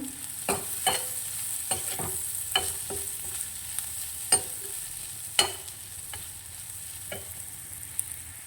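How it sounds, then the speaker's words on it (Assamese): Ingredients fry in a pan for a jackfruit-seed and paneer pasta as turmeric is stirred in, with a steady sizzle broken by a dozen or so sharp, irregular scrapes and knocks of the spoon against the pan. "আৰু দিছোঁ ইয়াৰ হালধি অকণমান জাষ্ট। এইখিনি মই লৰাম।"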